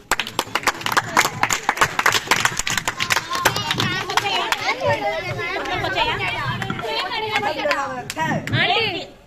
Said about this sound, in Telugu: ఓకే పాట పాడినందుకు క్లాప్ కొట్టండి